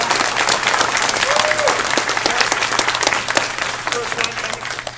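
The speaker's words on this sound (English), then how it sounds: "Guys, round of applause for him." Audience at an Anthrocon 2011 furry convention magic-themed show breaks into loud, continuous applause with scattered cheers, a low steady hum beneath and a voice briefly audible through the clapping.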